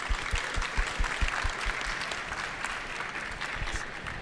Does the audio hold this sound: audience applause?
yes